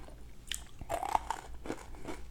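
Crisp bites into crunchy fried calamari, close and loud, with a few sharp crackling crunches followed by softer chewing, no talking.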